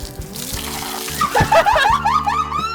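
Water splashes and pours onto a person in a rush of broadband wash, followed by excited voices with shouting and laughter over lingering water noise.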